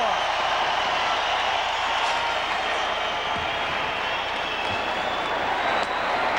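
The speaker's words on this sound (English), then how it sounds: "Listen to this crowd roar." A packed hockey arena crowd at a 1994 playoff game between Dallas and Vancouver roars in a steady, loud, broad wash of noise that is sustained throughout, with no separate voices standing out.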